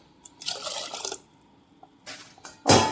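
Water pours into a pot of cooking jackfruit seeds and toor dal seasoned with turmeric, heard as a few short splashing bursts separated by near silence, the last pour the loudest.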